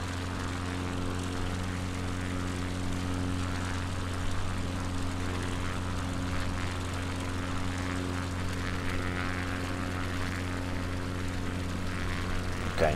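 Steady drone of a light propeller airplane's engine in flight over the UK coast near Aberdeen, a continuous close hum holding an even pitch throughout with no break.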